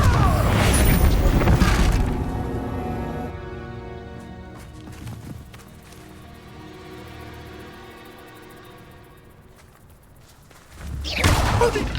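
A Confringo blasting spell bursts loudly in Hogwarts Legacy, a heavy booming hit at the start, a sustained rumbling, ringing tail through the middle, and another loud burst near the end.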